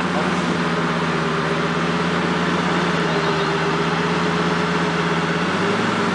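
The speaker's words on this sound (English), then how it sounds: "He wants to hear the exhaust." A Lamborghini Gallardo SE fitted with a Tubi exhaust idles with a steady, low, throbbing rumble at a Cars and Coffee meet in San Antonio, while people talk faintly nearby.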